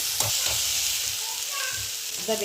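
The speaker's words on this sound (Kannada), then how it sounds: "ಟೊಮೊಟೊ ಒಂದು ಮುಷ್ಟಿ ಕೋಸು ಇದನ್ನೆಲ್ಲ ಒಟ್ಟು ಸೇರಿ ಚೆನ್ನಾಗಿ ಫ್ರೈ ಮಾಡಿ ಮಾಡಬೇಕು" Tomato and cabbage frying together in a pan for vegetarian pasta, a soft steady sizzle with a few spoon scrapes early on and faint clinks near the end.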